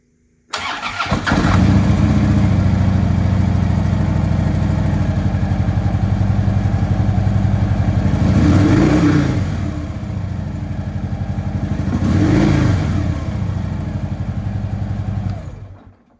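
A stock 2010 Harley-Davidson Tri Glide three-wheel motorcycle with 1,963 miles starts up and settles into a loud, steady idle, with two throttle blips swelling about halfway through and again near the end, all close up with no talking.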